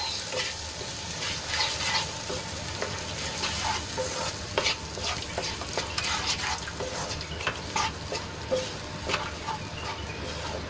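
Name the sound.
stirring spice paste into frying onions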